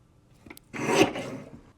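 A paper trimmer slices a strip of paper in one short, close rasping swipe lasting under a second, preceded by a faint tap.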